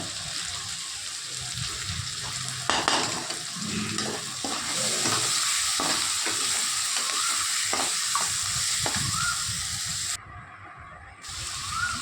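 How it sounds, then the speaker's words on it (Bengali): Ground turmeric, chilli, cumin and coriander being stir-fried in a pan, a constant close sizzle broken by scraping stirs, with a short quieter dip near the end. "তারপর ভালো করে মশলাটা কষাবো।"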